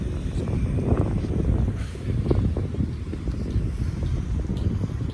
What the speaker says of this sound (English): it's windy really bad too